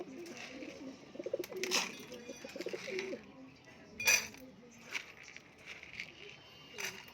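Pigeons cooing softly while being fed, low repeated coos with occasional wing flutters and pecking, close by, as a person talks over them.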